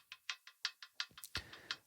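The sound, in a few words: hi-hat loop sample from Splice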